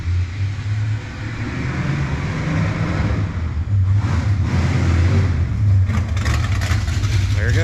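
A derelict Mopar rebuilt into a nitrous-fed race car, its engine idling with a lumpy low rumble that rises into short revs near the end, loud and close with no talking.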